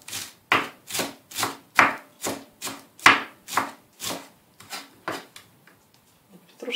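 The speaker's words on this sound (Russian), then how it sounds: "Петрушка нарезана." Knife chopping fresh parsley on a cutting board while herbs are prepared for freezing, a steady run of about a dozen crisp, close thuds that slow and fade toward the end.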